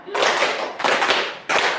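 A group of teachers claps a rhythmic counting clap pattern together, producing three loud, dense bursts of clapping separated by brief pauses, close and clear.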